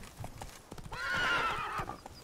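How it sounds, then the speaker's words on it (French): Horse in The Witcher 3: Blood and Wine gives a clear, fairly close whinny in the middle, with light clip-clopping hoofbeats before and after. "Viens mon cheval."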